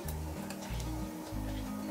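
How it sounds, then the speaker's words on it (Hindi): Half a spoon of cumin seeds sizzling in hot oil in a kadai, a steady crackling hiss that holds for about two seconds with a low hum underneath. "ऑयल जैसे गर्म हो जाएगा आधा चम्मच जीरा ऐड कर दिया। जीरा अच्छी तरह से फ्राई कर लूंगी।"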